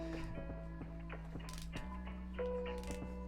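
Ratcheted leg joints of an action figure toy being moved: a series of small, close clicks and creaks in uneven bursts over a steady low electrical hum, with no speech.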